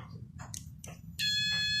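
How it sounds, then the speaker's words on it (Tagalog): Faint voices and clicks give way to a sudden steady high-pitched buzz from a continuity tester checking an electric kettle, holding continuously to the end. "So nakatayo yung tester natin, nakabuzzer."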